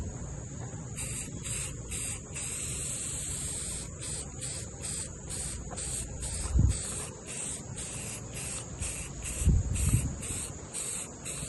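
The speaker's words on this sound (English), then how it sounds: "it's probably too windy today for spraying" A steady hissing of spray paint runs throughout in short repeated bursts, with wind gusting in low rumbles and a couple of louder buffets.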